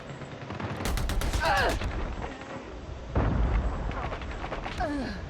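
Gunfire bursts crack through a Call of Duty Mobile match, heavy shots and rapid volleys arriving in two loud clusters amid game effects, with players talking over the action.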